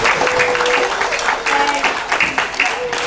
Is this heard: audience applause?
yes